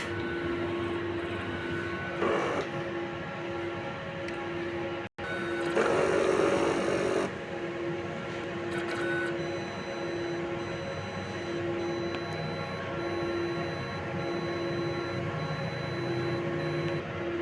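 A sublimation printer's head cleaning cycle: a steady mechanical hum with tonal whine, a brief louder whirring burst, short pauses and faint beeps, no talk.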